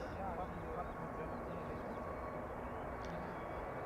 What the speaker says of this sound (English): JetBlue on its way to New York, JFK, A321neo.